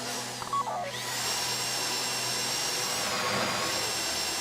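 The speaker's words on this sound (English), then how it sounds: "get out the drill. Don't go too quick, or it's gonna overheat" Drill boring into a deposit box during a heist in the video game GTA V, a loud, continuous whining grind that keeps up steadily after a brief start, with no voices.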